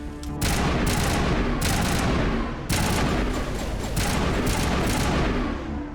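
Loud, sustained gunfire in Mass Effect, dense rapid volleys broken by brief gaps, continuous and close with no talk over it.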